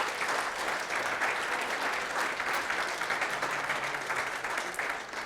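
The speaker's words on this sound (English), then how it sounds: "Let's give her a round of applause." An audience applauds a guest at a Holocaust memorial service, a steady, moderately distant wash of clapping that continues evenly for several seconds with no talk over it.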